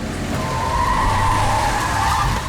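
A car skids to a stop with a loud, sustained tire squeal lasting a couple of seconds, close and harsh, with no talking.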